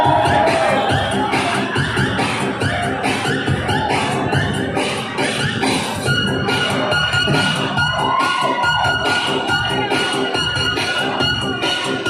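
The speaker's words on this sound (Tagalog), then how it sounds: "Palakpak naman kayo lahat dyan." Large crowd at a sportsfest opening ceremony cheering and clapping continuously, a dense, loud, sustained roar of applause with shouts throughout.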